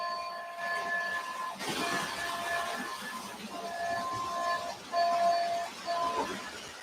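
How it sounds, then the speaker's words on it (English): Repeated electronic buzzer tones from a toy train sound in short bursts, starting and stopping several times over a soft background hiss and faint rattle. "the other train has a buzzer too"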